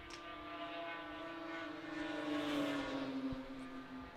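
A racing snowmobile engine passes by, a Kawasaki competing in a lap race at the Canadian Power Toboggan Championships, its steady high-pitched drone rising to a peak as it nears and then easing off.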